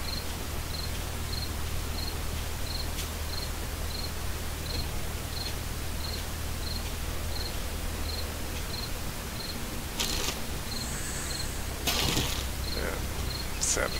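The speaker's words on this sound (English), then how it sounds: "the birds and the crickets are starting to chirp" Crickets chirping in the 7 Days to Die video game, a regular evenly spaced chirp repeating steadily over a constant noisy ambient bed, with a couple of brief louder rustling bursts near the end and no speech.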